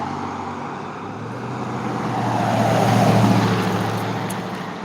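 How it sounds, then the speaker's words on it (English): Cars pass along a road near a lake, a steady broadband roadway rumble that swells to a peak midway and then eases off, heard alone without talk. "A couple of cars going by."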